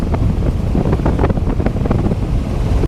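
Heavy wind buffets the microphone while driving along Talsari beach beside the sea, a loud, constant low roar with the wash of waves blended underneath, cutting off abruptly at the end.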